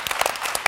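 Short burst of audience applause at a social media event, a cluster of close, sharp claps over about a second, moderately loud with no talk.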